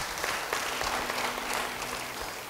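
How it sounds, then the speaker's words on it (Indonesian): Church congregation clapping during a sermon, a soft wash of applause that holds steady for a couple of seconds at a modest distance. "Yang percaya beri tepuk tangan bagi dia."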